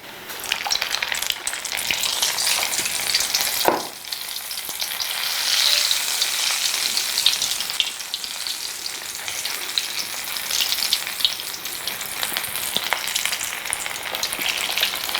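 Vegetable bonda deep-frying in oil makes a loud, continuous bubbling sizzle close by, with a brief dip and splash midway and no talking.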